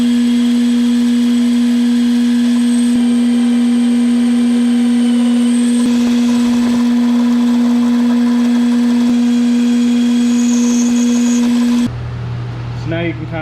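A lathe turns a shift knob in a workshop, a loud steady motor hum running throughout with faint scraping of the cut underneath, cutting off abruptly near the end to quieter handling noise.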